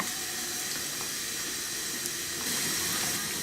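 Water runs steadily into a pan of beef stock for gravy, a constant hissing splash without pauses, close and moderately loud.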